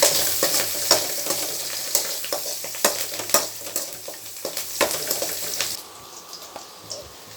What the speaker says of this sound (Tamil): கருவேப்பிலை போட்டுக்கோங்க